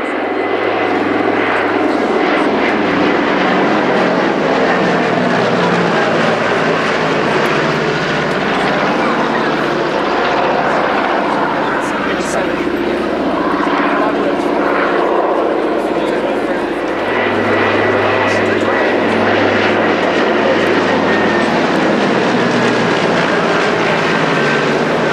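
A flying boat with wingtip floats flies past at the Shoreham Airshow, its engine drone loud and steady for the whole stretch, with a commentator's voice over the top.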